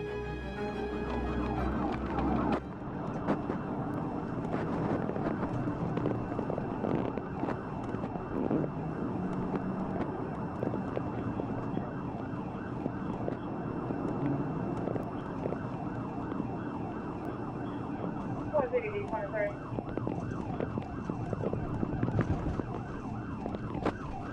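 A police siren wails through constant road and wind noise during a late-night interstate pursuit, heard from a dashcam, steady and fairly close for the whole stretch.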